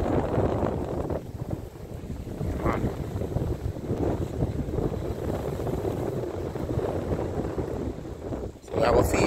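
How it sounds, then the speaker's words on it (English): Steady wind blowing over the open sea at Morant Cays beside a boat, buffeting the microphone continuously while people talk throughout. "You can hear the wind already."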